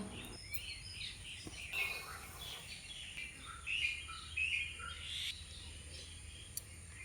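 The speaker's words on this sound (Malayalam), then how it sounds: "കിളികളുടെ ശബ്ദങ്ങൾ കേട്ടോ" Several short bird chirps ring out intermittently over a steady high insect hum, fairly faint and outdoors near forest in Kerala.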